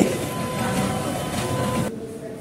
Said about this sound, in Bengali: এবার টয় ট্রেন চলে আসছে।